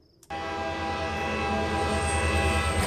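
A train rumbles steadily along a railway after a sudden onset, a continuous rolling drone with a faint high tone above it, fairly close and unbroken.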